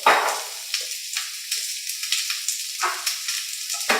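Thickly cut whole onion frying in a pan, a steady close sizzle with brief louder crackles and stirring scrapes, no voices over it.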